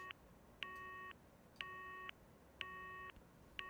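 Repeating electronic beeps from a phone hang-up in the Steins;Gate video game: evenly spaced half-second tones with short gaps, faint and clean, no talk.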